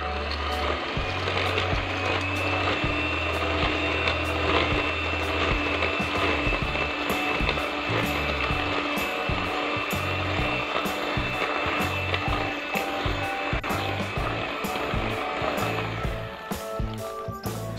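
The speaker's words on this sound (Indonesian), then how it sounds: "Lalu mixer dengan menggunakan kecepatan sedang aja sampai semuanya tercampur rata." An electric mixer runs at medium speed through powdered sugar for a cheese sago cookie dough, giving a steady motor whir with rapid clattering and rattling from the beaters all the way through.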